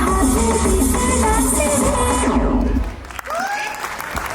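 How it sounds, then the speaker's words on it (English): Dense audience clapping fills a school annual day stage performance, a loud continuous wash that fades out near the end while music with a sliding tone lingers. "Your clap shows everything."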